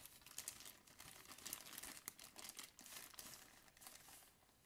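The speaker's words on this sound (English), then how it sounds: "Let's unwrap this beautiful microphone." Packaging crinkles and rustles close by as a Neumann TLM 102 microphone is unwrapped. The soft, continuous crackling has irregular sharper crinkles throughout.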